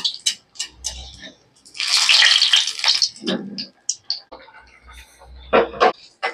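A large egg chop frying alone in hot oil gives a loud burst of sizzling hiss, then quieter crackling and spatter, with a few brief knocks and clatters around it.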